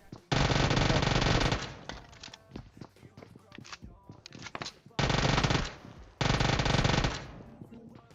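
Uzi submachine gun firing in PUBG Mobile, loud rapid automatic bursts of about a second each, separated by short pauses and scattered single clicks and taps.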